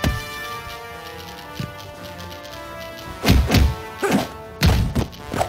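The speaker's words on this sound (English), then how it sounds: "Soften them up with some quick attacks, then nail them with a strong hit." Melee punches and strong hits in the Spider-Man 3 PSP video game, a series of dull thuds and heavier whacking impacts arriving in bursts over steady background game music.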